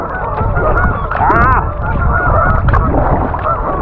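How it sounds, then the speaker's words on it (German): A large flock of geese honking loudly and continuously nearby, overlapping calls in a dense clamor on a winter paddling trip by kayak, with a brief exclamation from a person. "Hört euch das mal an. Boah, ganzen Gänse hier."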